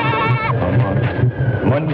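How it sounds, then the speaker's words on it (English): A goat bleats in a wavering, quavering cry, loud and close, running under a voice in a low-budget horror sketch. "Take the goat."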